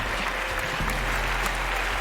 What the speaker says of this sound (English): You guys are really clapping a lot. Very loud.